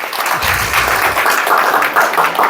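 Audience at a Korean lecture on relationships and communication applauding, a dense steady patter of many hands clapping that fills the whole stretch without a pause.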